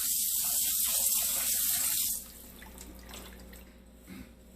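Tap water runs into a kitchen sink while chicken is rinsed, a steady close splashing stream for about two seconds, then cut off to quieter drips and faint handling sounds.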